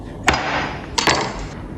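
A knife cuts through the joint of a whole chicken during deboning, giving two sharp cracking snaps close by over a low steady background, with no voices.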